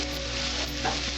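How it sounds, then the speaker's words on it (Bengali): Onions fry in a pan, browning in a steady, close, continuous sizzle with a faint crackle, and no talking. "এবার আমি ভালো করে পেঁয়াজটা আমি লাল লাল করে ভেজে নেব।"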